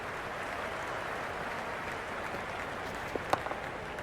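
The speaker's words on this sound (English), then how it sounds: "There's a buzz, a real buzz coming from the stands." A stadium crowd in the cricket video game Cricket 26 murmurs and roars as a broad, steady wash of distant noise, with a few faint claps near the end.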